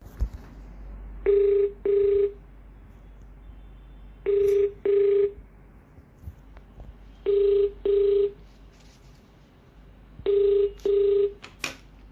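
An outgoing phone call rings back in four evenly spaced double rings, each pair of short tones separated by a few seconds of faint line hiss.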